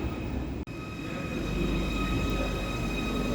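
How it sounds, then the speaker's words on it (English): A Merseyrail train bound for Southport runs close by at a station, with a steady loud rumble of wheels and motors, a brief sharp cutout early on, and no voices. "It's going to be my Southport train."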